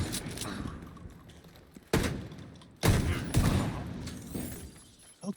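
Gunfire in The Division 2, a few sharp bursts and single loud shots standing out from a steady game-combat background, spaced irregularly across the stretch with some quieter gaps between them.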